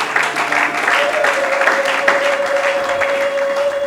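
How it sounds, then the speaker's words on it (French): A church congregation applauds steadily, a loud, sustained wash of clapping hands that carries throughout, with a faint sustained tone beneath it. "Acclamez pour la gloire de notre Dieu."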